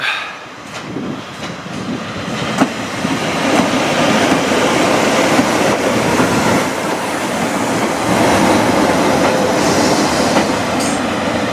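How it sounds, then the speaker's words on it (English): A Class 144 Pacer diesel multiple unit on the Settle & Carlisle line rumbles loud and close with clattering wheels, steady and rising slightly after a brief dip at the start. A faint squeal sounds near the end. "Is there a 144 on its own? I think it is. Little pacer unit."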